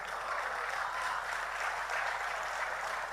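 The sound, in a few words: audience clapping at a poetry recital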